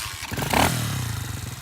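Demon DXR 125 pit bike engine starting with the choke half on: a brief clattering crank and catch, then a steady close engine note settling in.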